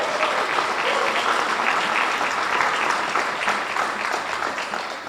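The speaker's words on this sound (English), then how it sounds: "let's give a big round of applause" Audience applause at a health and longevity stage event, a dense, steady clapping from a large crowd that holds across the whole stretch and tapers slightly at the end.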